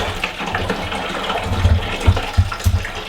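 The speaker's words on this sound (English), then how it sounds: "we'll transfer it. This helps filter out a little bit of the malt that's left in there and help aerate the wort." Homebrew rye IPA wort splashing and gurgling as it is transferred into a carboy and aerated, a close, continuous liquid rush with low surging pulses.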